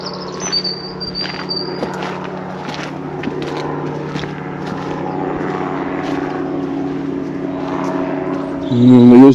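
A steady drone of a gyrocopter overhead blends with high insect chirping outdoors, a short whistle early on and a louder surge near the end.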